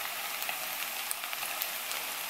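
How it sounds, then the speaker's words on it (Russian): Potatoes frying in an uneven-bottomed pan give a steady, dense sizzle with scattered crackles and pops, fairly close and continuous throughout, with no talking. "картошечка у нас жарится"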